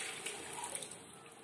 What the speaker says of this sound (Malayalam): ഞാനിവിടെ ചൂട് വെള്ളമാണ് ഒഴിച്ചു കൊടുക്കുന്നത്